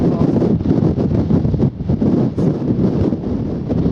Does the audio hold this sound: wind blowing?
yes